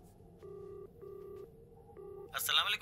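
A phone call placed on speakerphone at a police station sounds three identical electronic ringing tones, evenly spaced and moderately loud, before a voice starts talking.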